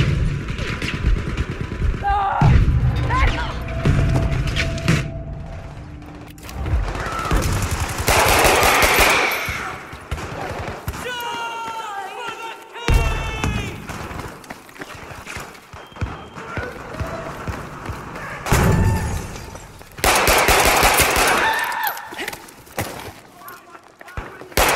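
Gunfire in Battlefield V trench combat: bursts of rapid automatic fire and single shots, near and loud, mixed with footsteps, thuds and battlefield clatter, and someone talks over parts of it.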